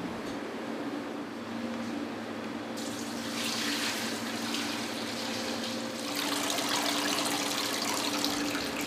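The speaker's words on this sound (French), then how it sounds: "je vais filtrer le lait" Steady rush of goat's milk pouring and trickling through a filter, growing louder partway through, with a faint hum underneath and no voices.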